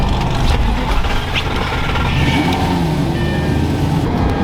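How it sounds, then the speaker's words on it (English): Cars pulling out and driving away from a car meet, a steady rumble of engines and road noise with some revving, fairly close and continuous throughout. "everybody's pretty much leaving the car meet"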